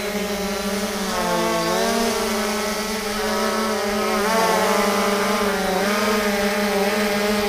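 A 3DR Solo quadcopter drone carrying a GoPro spins its motors up for takeoff, a loud, close, buzzing whine whose layered pitch wavers and rises as the rotors speed up, with no talking.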